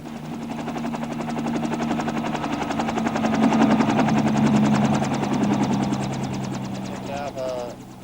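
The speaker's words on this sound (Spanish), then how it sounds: "los helicópteros descendían por sorpresa sobre aldeas sospechosas" Military helicopters descend on a village in the Vietnam War, their rotor blades thudding in a loud, rhythmic chop that swells to a peak midway and then eases off.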